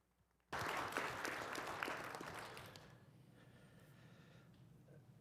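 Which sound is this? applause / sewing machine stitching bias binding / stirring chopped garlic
applause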